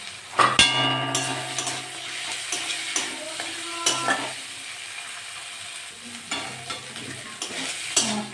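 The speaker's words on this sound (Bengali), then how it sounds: "মশলাটা কষে নেবো" Chopped tomato, salt and spices being sautéed in a pan for a tilapia, potato and snake gourd curry, a soft sizzle under frequent sharp scraping and clanking spoon strokes against the pan.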